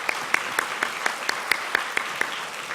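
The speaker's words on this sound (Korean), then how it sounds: "우리가 박수 한번 쳐도 될 것 같아요" A church youth service congregation applauds together, a dense, steady wash of hand clapping with sharp individual claps rising at a regular beat, fairly close and filling the room without any voices over it.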